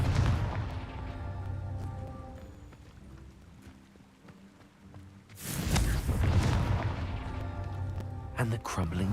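Confringo fire spell cast in the Hogwarts Legacy video game, a sudden loud blast and crackling burst halfway through, after quieter game ambience and a voice.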